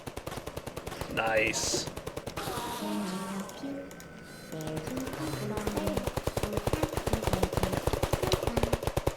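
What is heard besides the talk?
sentry gun firing in a video game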